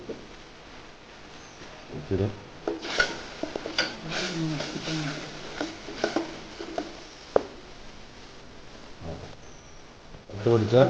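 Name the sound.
stirring puli inji curry in a pan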